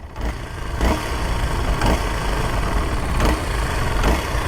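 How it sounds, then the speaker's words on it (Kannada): A Kawasaki KLX230 Indian-spec motorcycle engine runs close by with a steady, loud mechanical drone and faint rhythmic surges about every second and a half, with no voices. "ಇಂಜಿನ್ನು ಸ್ವಲ್ಪ ಲೌಡ್ ನಾಯ್ಸ್ ಇದೆ ಅಂತ"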